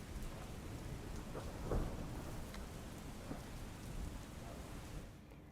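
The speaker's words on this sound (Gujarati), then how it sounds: "વીજળીના કડાકા સાથે મુશળધાર વરસાદ પડતા શહેરીજનોને ગરમીમાંથી આંશિક રાહત મળી" Heavy rain pours steadily over Ahmedabad with a deep thunder rumble swelling near the middle, a dense continuous wash heard alone that drops off abruptly at the end.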